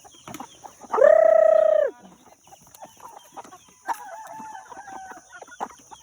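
Bantam and native free-range chickens are close by: one rooster gives a loud crow lasting about a second, followed by softer scattered clucks and a quieter, broken call, with no talking.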